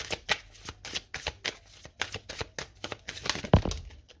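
A deck of tarot cards is shuffled by hand, making a rapid series of crisp riffling bursts and slaps in an uneven rhythm, close and clear, with a heavier thump near the end and no speech.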